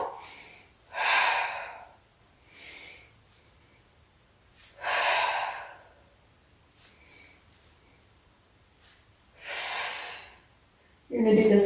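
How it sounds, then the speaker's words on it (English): Deep, forceful breaths during an advanced mat Pilates class, heard as several separate loud inhales and exhales spaced a couple of seconds apart with quiet gaps between. "inhale for one, exhale for the other, or inhale, inhale, exhale, exhale"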